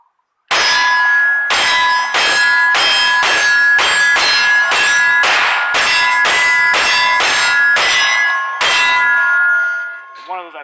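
Smith & Wesson M&P 2.0 compact pistol firing a rapid string of about a dozen shots, each ringing off steel targets with a bright metallic clang, loud and evenly spaced, with no voices.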